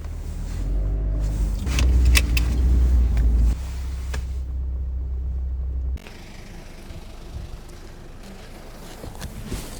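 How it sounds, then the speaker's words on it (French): A car engine turning over and settling into a steady idle, a loud low rumble that drops to a quieter, even hum midway, with no one speaking. "on dirait que la voiture elle s'est réveillée du premier coup"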